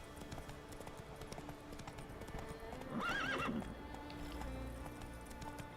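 Horse hooves clip-clop steadily at a gallop in The Witcher 3: Wild Hunt, with a loud whinnying neigh rising over them midway before the hoofbeats carry on.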